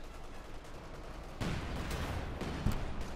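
In the video game Company of Heroes 2, a KV-2 bombardment lands amid gunfire: a muffled backdrop of shots, then a louder burst of explosions and crackling fire with a sharp impact near the end.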